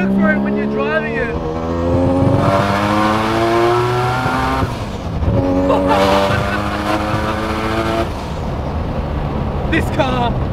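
A loud car with a 1000 hp bridge-ported 20B three-rotor turbo engine, a Mazda Eunos Cosmo with manual transmission, revs hard and accelerates through the gears, its rising whine climbing and dropping with each shift, close by, under speech.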